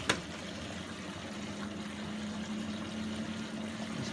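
Cold water rushing into a washing machine through its solenoid valve for the rinse cycle, a steady, even hiss of filling water with a faint low hum, continuous and close throughout.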